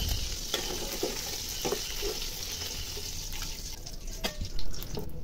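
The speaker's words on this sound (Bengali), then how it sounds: "পেঁয়াজটা ভালোভাবে নেড়ে চেড়ে কিছুক্ষণ ভেজে নিয়েছি" Chopped onion stirred and frying in a pan where hilsa fish was just fried, a steady close sizzle with scraping stir strokes and a few sharper clinks throughout.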